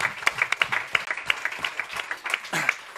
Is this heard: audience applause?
yes